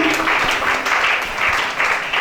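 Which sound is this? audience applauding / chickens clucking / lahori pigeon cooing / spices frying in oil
audience applauding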